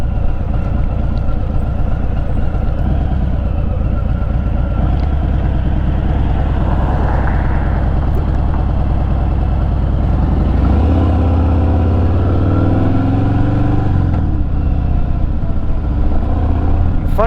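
Motorcycle ridden at low speed through a U-turn, a steady mid-pitched engine drone with wind rumble throughout and a brief throttle swell near the end of the turn, heard from the rider's position.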